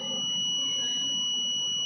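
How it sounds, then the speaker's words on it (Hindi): The buzzer alarm of an urban flood monitoring system sounds in a continuous, steady high-pitched electronic tone, loud and close, with a faint hum beneath. "जैसे ही कोई चीज़ एक्सीड होती है तो तुरंत बजर बजने लगता है"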